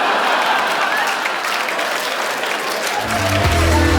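Stand-up comedy club audience applauding and cheering a comedian, a dense steady wash of clapping throughout, with a low rumble of crowd noise joining near the end.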